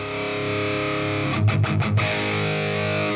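Electric guitar played through a Hayden Classic Lead 80 amp with preamp distortion: a sustained, steady distorted tone with a few quick strummed or picked accents in the middle, loud and close, no talking.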